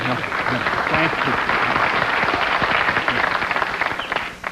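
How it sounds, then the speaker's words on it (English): Dense, loud audience applause at a comedy talk show taping fills the whole stretch, steady throughout before tapering off at the end, with a brief spoken thanks over it. "Thank you for the boss hog-like applause."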